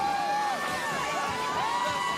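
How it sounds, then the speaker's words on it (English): Georgia fans in the stadium at the Sugar Bowl college football game cheer and whoop, making a dense, sustained crowd roar with rising shouts and whistles. The crowd is loud and continuous across the whole moment. "It's the Georgia fans making noise now."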